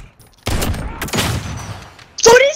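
Bursts of gunfire in a Call of Duty Modern Warfare sniping match, loud and close, followed by a sharp ringing hit-type effect near the end.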